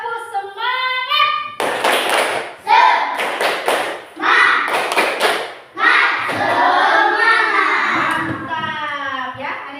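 Classroom of children doing a rhythmic spirit clap: bursts of sharp unison claps in patterned groups, interleaved with chanting voices and a teacher's sung prompts, loud and close.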